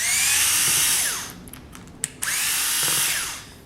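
A power screwdriver backs screws out of an Andis hair clipper, two close whirring bursts with a short pause and small clicks between them.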